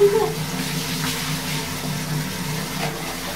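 Water running and splashing while a baby is rinsed at bath time, a steady moderate wash of sound, with a voice heard over it.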